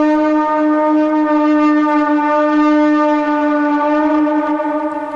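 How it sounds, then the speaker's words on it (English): A Viking horn blown during a sports talk show: one steady, droning, brassy tone held for about five seconds, loud and close, with no voices over it. "So, because of that, we get to play the Viking horn."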